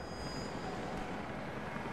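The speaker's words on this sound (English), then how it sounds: "Jacob, helicopters are headed your way" A helicopter approaching in the video game Rise of the Tomb Raider, a steady broadband engine and rotor roar filling the soundscape with no speech.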